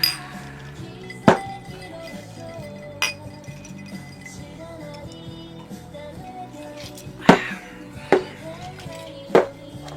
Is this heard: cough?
no